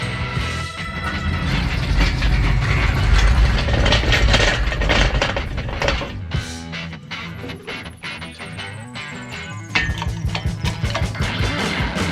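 Screws are driven out of the lid of a Seplos battery box with a power tool, giving continuous loud mechanical whirring and ratcheting with clicks and shifts in pitch, close up.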